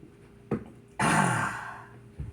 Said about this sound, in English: It's with some good old lemon lime seltzer water.